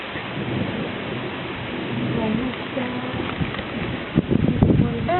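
Steady rain falls at Prokoško lake in Bosnia and Herzegovina, a dense continuous hiss with wind noise, heavier splashing bursts near the end, and voices talking over it.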